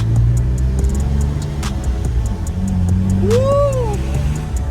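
A manual-swapped BMW E36 pulls away in first gear on a snowy road, its engine a steady close rumble with rising harmonic tones as it accelerates.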